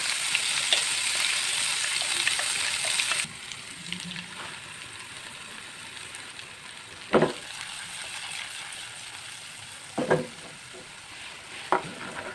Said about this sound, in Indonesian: kalau sudah benar-benar panas, baru kita masukkan bumbu halus. Kita masak sampai bumbunya itu benar-benar tanak dan matang